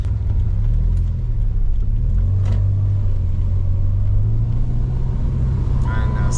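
A car with a rebuilt Subaru EJ25 engine and crooked steering pulls away, its engine a steady, close, low rumble that carries without a break from start to finish.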